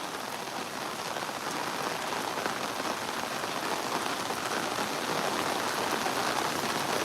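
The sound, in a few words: heavy unexpected rain falling outdoors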